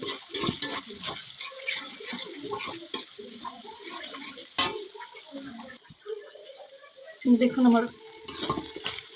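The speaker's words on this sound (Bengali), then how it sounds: "লাল লাল করে ভেজে নিচ্ছি" Shrimp frying in oil in a pan until reddish, with busy close sizzling and clattering stirs, a brief pause, then louder stirring, while someone speaks briefly in Bengali.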